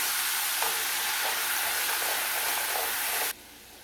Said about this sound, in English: you just want to scrape the bottom of your skillet and get all those nice brown bits off